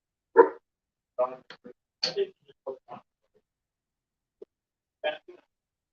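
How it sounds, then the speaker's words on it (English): A pet dog in a house barks in a short series of sharp, close yips and woofs, several quick bursts followed by a pause and one more bark, with no talk over it. "Sometimes he just barks at the wall"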